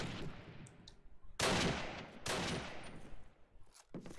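Call of Duty: United Offensive gunfire in a competitive match breaks out in two sharp, loud bursts of rapid shots separated by quieter stretches, with a few isolated reports after them.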